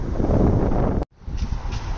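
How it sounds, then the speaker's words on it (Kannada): Strong gusty wind buffets the microphone outdoors among autumn maple trees, a loud rushing roar that briefly drops out before rushing again. "ಗಾಳಿ ಜಾಸ್ತಿ ಇರೋದ್ರಿಂದ ಎಲ್ಲ ಆ ಕಡೆ ಈ ಕಡೆ ಆರೋಗ್ತಾ ಇದೆ"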